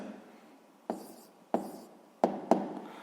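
A pen writing numbers on paper, soft scratchy strokes punctuated by four sharp taps as each figure is finished, close and quiet with no talk.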